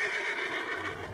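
Horse neighing from a Red Dead Redemption 2 game trailer, a steady, fairly loud whinny lasting about a second with no talk over it.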